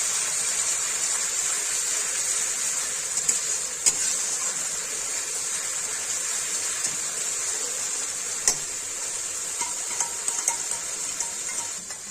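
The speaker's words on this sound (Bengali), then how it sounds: "পেঁয়াজ বাটা দিয়ে দিলাম কড়াইয়ের মধ্যে" Onion paste fries in a wok in hot oil with a dried red chilli, two bay leaves and nigella seeds, giving a steady, soft sizzling hiss with a few faint clinks throughout.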